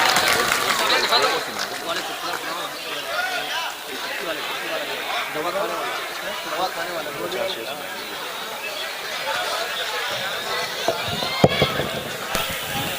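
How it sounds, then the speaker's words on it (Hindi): An audience at a mushaira and kavi sammelan gives a poet sustained, dense applause, with crowd chatter mixed in and a few sharper claps near the end. "चलिए तालियों से इस्तकबाल कीजिए नौशाद अंकल"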